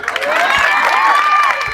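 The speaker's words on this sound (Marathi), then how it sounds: "पोपटराव साठी एकदा टाळ्या होऊन जाऊ द्या" An audience cheers and shouts loudly all at once, with whistle-like rising and falling tones riding over a dense crowd roar and a few sharper claps.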